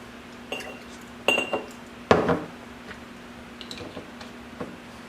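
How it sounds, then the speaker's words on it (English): Measuring apple cider vinegar with a small cup and metal teaspoons brings a few sharp, close clinks of spoon against cup, spaced apart, with one louder clatter in the middle and quiet between them. "I'm going to take my little cup, my little teaspoons here, and I'm going to do 2 tablespoons"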